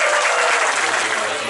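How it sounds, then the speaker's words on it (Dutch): An audience at a vlog premiere gives a warm round of applause, a brief, dense burst of many people clapping at close range, steady and loud throughout. "mag ik een hartelijk applaus voor Jeroen Kijken de Beste"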